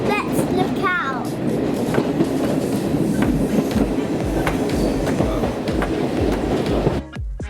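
A diesel heritage train on a preserved railway, heard from on board at the front. Loud, continuous rumble and rhythmic wheel clatter with short squeals early on, cutting off sharply near the end.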